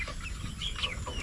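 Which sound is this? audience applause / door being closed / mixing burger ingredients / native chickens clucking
native chickens clucking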